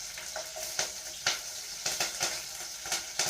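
Green chillies sizzling in hot oil in a pan for semiya upma, a steady crackling fry broken by sharp spits and pops as they are stirred.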